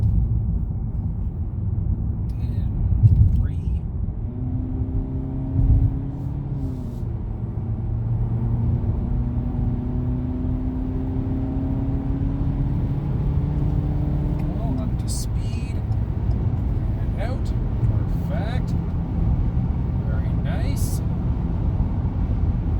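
A 2020 Ford EcoSport Titanium picks up speed on the road, heard from inside as a steady low engine rumble whose pitch climbs, drops at gear changes and climbs again.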